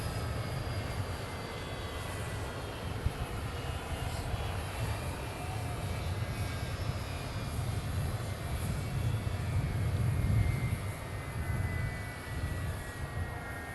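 Steady roar of Air Force One's jet engines running close by on arrival, a dense continuous rumble with a slight swell near the end and no talk.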